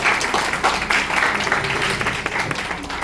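Applause from a crowd watching a street magic show by a magician, steady broadband clapping filling the whole stretch at moderate loudness, with a few voices mixed in.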